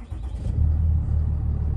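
A Cummins 6.7L diesel pickup engine with the stock grid heater and intake removed fires up and settles into a deep, steady idle rumble, close and alone.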